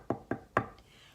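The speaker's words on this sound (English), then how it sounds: "He knocked on the door." Three sharp knocks on a door come in a quick, evenly spaced sequence, fairly quiet and close, followed by a faint fourth tap.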